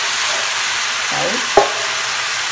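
Tomato and caramelized onion frying in a pan give a loud, steady hiss, with a brief scraping stir and one sharp utensil knock about midway.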